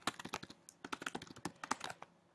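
A computer keyboard typed on at a fast, uneven pace while entering title text, a quiet close run of crisp key clicks with brief pauses.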